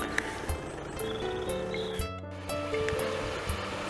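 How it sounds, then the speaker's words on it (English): An MG car drives through a shallow tidal ford on a road toward St John, tyres throwing up a continuous watery wash and splashing over engine and road noise, close to the vehicle. "Just a water splash"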